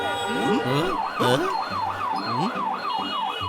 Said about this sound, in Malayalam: അവിടെ ഒരു ആംബുലൻസ് കുടുങ്ങി.